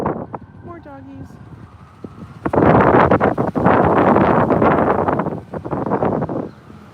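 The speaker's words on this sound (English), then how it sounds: "the wind is blowing" Strong gusty wind buffets the microphone outdoors in Riverside Park, New York City, on a spring day, a loud roaring rush that swells midway and eases near the end, with brief talk before it.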